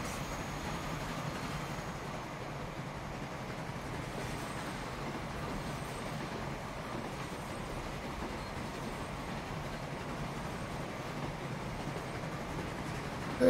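Train running in the Transport Fever video game, a steady rumbling roll of wheels and carriages that holds an even, moderate level with no talk over it.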